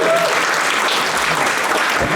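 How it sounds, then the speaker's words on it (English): Audience applause at a live stand-up comedy show in Europe, a steady dense clapping from the crowd that fills the moment at full volume without letting up. "Round of applause over here for the helping the neighbors."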